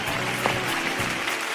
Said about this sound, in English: We can clap better.